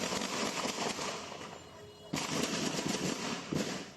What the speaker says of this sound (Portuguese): Motoristas também registraram os tiros.